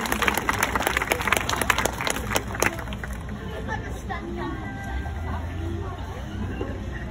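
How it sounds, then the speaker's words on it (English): Audience at a show at the 2024 State Fair of West Virginia breaks into brief applause for about three seconds, then the clapping thins out into crowd chatter and background hubbub. "Give a round of applause, guys."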